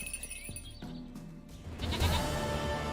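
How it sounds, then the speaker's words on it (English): A goat bleats in The Witcher 3, a few short wavering calls up close that grow louder and rougher toward the end, accompanied by background game music and no talk. "Goat of mine!"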